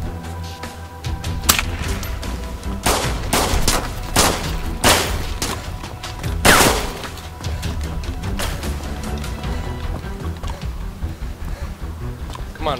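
Sporter rifle shots in the DayZ video game, loud sharp cracks fired in irregular bursts, some close together and others spaced apart, with rapid trailing pops in between.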